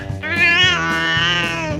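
A cat lets out one long, loud, drawn-out meow close by, rising and then sagging in pitch with a whiny, strained tone.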